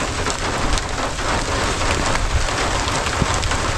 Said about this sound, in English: If this rain starts getting too bad